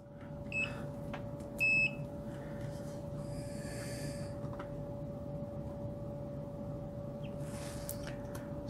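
A multimeter beeps a few times in short high tones during continuity checks on FPV goggle power wiring, heard faintly over a steady electrical hum and low background noise.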